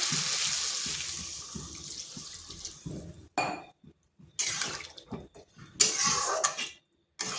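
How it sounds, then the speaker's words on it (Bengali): Hot water pours into a pan of potato and pointed gourd curry with a hissing, splashing gush, broken by pauses and short clinks of a utensil against the pan. "দিচ্ছি গরম জল"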